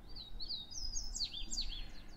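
Small colorful birds chirp and tweet in quick, bright bursts around a loft in Pereira, Colombia, a soft, fairly distant daytime chorus over low background hum.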